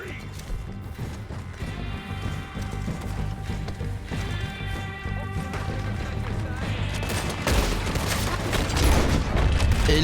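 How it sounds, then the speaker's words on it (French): Gunfire rings out in Red Dead Redemption II, a few sharp cracks and booms scattered over a steady bed of game ambience, with someone talking over them. "Oh, il y a encore des coups de feu."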